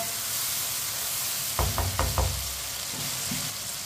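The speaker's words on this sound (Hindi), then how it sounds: "टमाटर को भी 1 मिनट के लिए पका लेंगे।" Tomatoes cooking in a pan: a constant soft frying hiss, then a short cluster of four or five quick knocking stirs of a utensil against the pan midway, followed by a couple of faint scrapes, close and moderately quiet.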